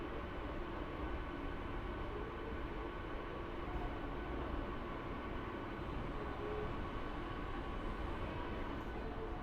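A passenger train pulls out of Krishnanagar City Junction, heard from on board as a steady, faint rolling rumble with a continuous wash of rail noise.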